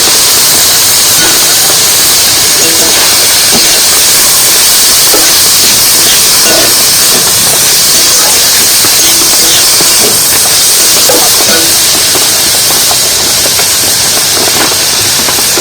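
Boiled kochu (taro) flower and boiled potatoes go into spice paste frying in a pan, giving a loud, steady broadband sizzle and hiss that continues throughout.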